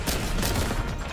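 A sniper rifle fires in Warhammer 40,000: Boltgun, a single brief, dense blast of gunfire lasting about a second that fills the whole range from deep rumble to hiss.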